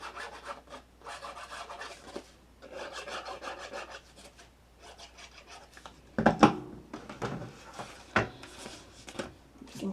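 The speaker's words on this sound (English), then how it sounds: "I'm going to fold and burnish." Folded paper pocket for a mini album being burnished by hand, giving soft repeated rubbing strokes in short close bursts with quiet gaps between them.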